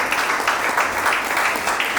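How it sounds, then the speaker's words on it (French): Guests at a civil wedding ceremony applaud the bride's witness, a dense, even wash of many hands clapping close by, sustained without a break. "on applaudit pour monsieur Adzon."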